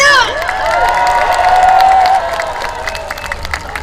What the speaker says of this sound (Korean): 여러분 박수와 함성 보내주세요!